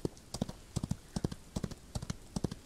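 Horse hooves clip-clop in a galloping rhythm in the Western video game Outlaws of the Old West, in groups of quick beats repeating evenly, fairly quiet and with no talk.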